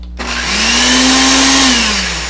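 A kitchen blender on its crush setting tries to grind Takis rolled tortilla chips, a loud steady motor whine that rises briefly, holds, then sags slightly as the blades strain.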